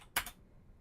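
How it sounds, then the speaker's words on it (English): Two quick keystrokes tap on a computer keyboard, close and crisp, followed by near silence. "We can go and just type it in manually"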